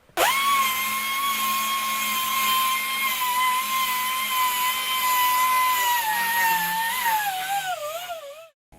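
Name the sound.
random orbit sander with 320 grit abrasive on brass drum hoop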